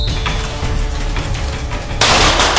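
Gunfire during a tactical shooting drill in Atibaia, Brazil: a series of close, sharp reports ending in a louder burst.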